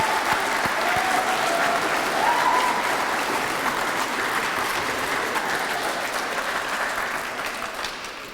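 Graduation audience applauding steadily for the whole stretch, a dense, sustained wash of clapping that fades slightly toward the end, with a faint voice briefly heard within it.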